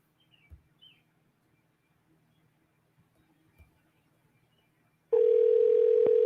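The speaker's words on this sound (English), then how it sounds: "Let me know if y'all can hear the phone ringing." A telephone on a live call-in show gives a steady, loud ringing tone that cuts in abruptly after several seconds of near-silence with faint background sounds.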